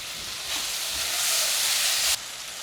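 Vegetables with tomato, salt and garam masala sauté in a pan, and a bright sizzling hiss swells after a soft stir, holds steady and loud, then drops off abruptly near the end.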